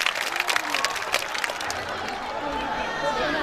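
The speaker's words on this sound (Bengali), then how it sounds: "হাততালি হবে প্রাণ আপ কনসার্ট ফর লাইফে।" Concert audience applause at the PRAN UP Concert for Life at Rajshahi University, a broad crowd clapping with bright spattering bursts that fade into a steadier crowd wash, with a voice over the crowd.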